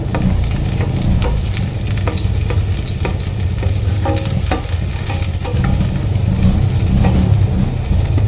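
Garlic and onion frying in hot cooking oil for ginisang kalabasa with sardines, a loud close sizzle with steady crackling and occasional stirring scrapes throughout.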